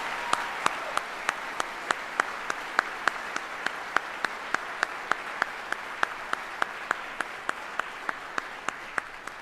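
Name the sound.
audience applause for retiring soldiers at army ceremony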